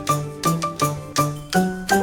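Classroom bell ringing at the start of class, a run of bright, resonant dings struck in a quick, steady rhythm, each ringing on briefly before the next.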